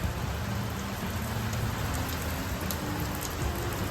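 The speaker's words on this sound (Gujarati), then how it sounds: "અચાનક ભારે વરસાદ ચાલુ થઈ ગયો એકદમ" Heavy monsoon rain pours down in a loud, unbroken roar, drumming hard on surfaces with no pauses and no voices.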